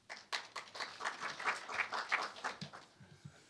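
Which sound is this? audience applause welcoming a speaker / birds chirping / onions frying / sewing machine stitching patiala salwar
audience applause welcoming a speaker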